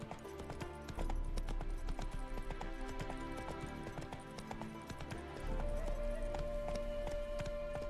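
Horse hooves clip-clop in a steady trotting rhythm while riding in the video game Witcher 3, with music and ambient tones underneath and a brief whinny-like sound, moderately loud and close.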